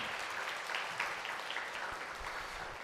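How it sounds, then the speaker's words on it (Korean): Applause from a church congregation during a Sunday worship service, a steady, even wash of clapping hands sustained throughout, with no voices over it. "우리 하나님께 영광의 박수 드리도록 합니다."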